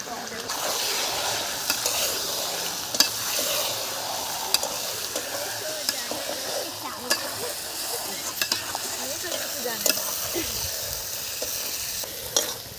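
Spice masala with tomato and whisked yogurt frying for a prawn malai curry, a steady dense sizzle with repeated scrapes and clicks from stirring, close and continuous, with no talk over it.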